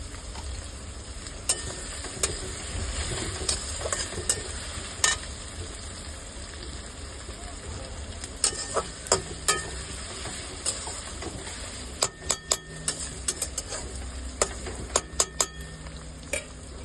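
Bullet chillies and chopped ginger with garlic fry in a pan under a soft continuous sizzle, broken by scattered sharp clicks and scrapes as the spoon stirs, mostly quiet and close.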